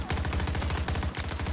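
Rapid automatic gunfire from an M16A3 rifle setup in the Battlefield 2042 video game, a dense fast rattle of close shots, loud and continuous with a brief hitch near the end.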